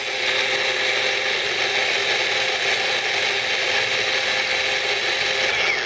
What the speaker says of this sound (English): Grind up our basil.